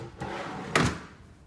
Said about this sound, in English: You'll see they pull out easily, and if you attempt to slam them, they pull themselves closed